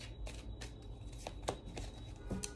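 Tarot guidance cards are shuffled and drawn close up in soft, quick riffles and flicks with a few sharper taps, faint and alone.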